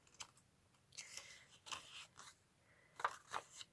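Scissors snip through paper card while making a pop-up flower card, a few close, quiet crisp cuts in irregular bursts with soft rustling between them.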